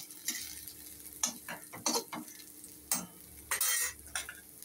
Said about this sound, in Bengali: এর মধ্যে চিংড়ি মাছগুলো দিয়ে দিচ্ছি।